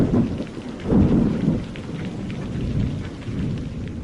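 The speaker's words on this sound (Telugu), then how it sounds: "ఇంకా మహి వర్షం పెద్దదవుతుంది కూడా, చాలా తడుస్తున్నాం" Heavy rain pours steadily while deep thunder rolls through, swelling loudest around the first and second seconds, a continuous dense downpour with no voices.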